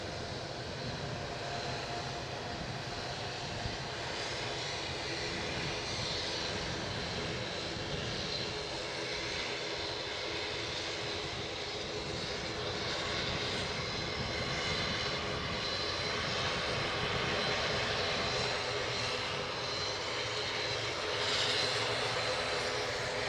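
RB211 jet engines spool up on an airliner at Edinburgh airport, heard from a distance as a steady broadband roar mixed with wind that holds for over twenty seconds and swells slightly toward the end.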